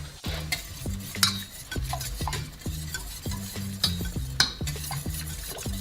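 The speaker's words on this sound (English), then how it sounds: "Don't stop whisking." Pastry cream being whisked in a saucepan, a steady rhythmic scraping of the whisk against the metal, repeated strokes in quick succession, close and fairly loud with a faint cooking sizzle beneath.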